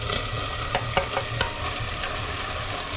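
Chicken pieces hit an onion-tomato masala frying in a pan for a country chicken curry, giving a steady sizzle and frying hiss with a few scraping stirs, close and without voices.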